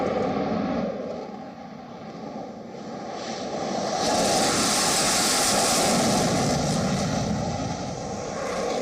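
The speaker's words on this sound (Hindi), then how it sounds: "रफाल लड़ाकू विमान," Engine roar of a Rafale fighter jet: a loud, continuous broadband rush that dips briefly and then swells louder as the jet passes, with no voices.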